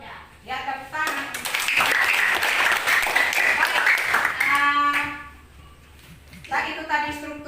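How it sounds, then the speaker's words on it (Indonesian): Classroom applause, a burst of clapping from students that rises for a few seconds and then fades, with a teacher's voice talking before and after it. "Ya, tepuk tangan."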